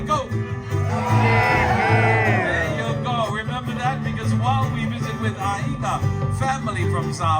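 A luau crowd answers with a Samoan celebration shout, a mass of overlapping whoops and wavering yells that swell at first and then fade into scattered cries and chatter, with a steady low hum underneath.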